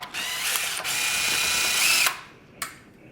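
A power drill or electric screwdriver whirs up close, backing screws out of a KitchenAid stand mixer's housing during a home repair, in sustained bursts that stop abruptly, followed by a short clack.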